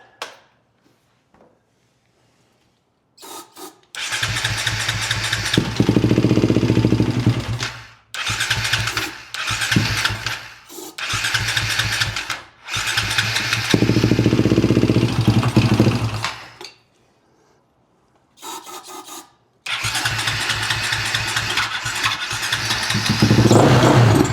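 A KTM 525 motorcycle engine with a no-run fault cranks and catches again and again. Each loud burst of revving dies out into a stall, followed by short silent gaps.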